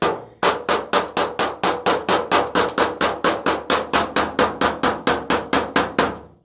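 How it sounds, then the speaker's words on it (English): Steady hammer blows on car body sheet metal during restoration bodywork, about twenty sharp, evenly spaced metallic strikes ringing out loud and close with no talk. "You don't have to do a lot of heavy hammering to move this big section."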